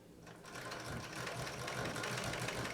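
A Pfaff 230 sewing machine set in a treadle, with a rear-mounted motor and belt drive, hums steadily and close by during free motion quilting on a quilted bag, a continuous whirring drone that builds slightly in loudness.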